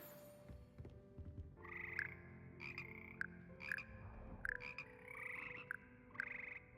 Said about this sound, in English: These magical amphibians can sing in 6-part harmony and hold a pitch better than most humans